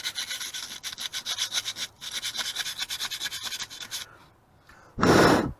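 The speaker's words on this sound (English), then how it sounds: "I took some sandpaper and I wrapped it around a thin pokey I have. And I'm just going to put it in there like this" Sandpaper wrapped around a thin rod scrubbing rust from a car part, rapid rhythmic rasping strokes close and fairly loud, pausing briefly, then ending with a short burst of louder broadband noise.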